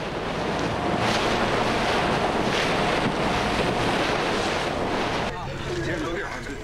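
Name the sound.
ocean waves crashing around a rocking ship at sea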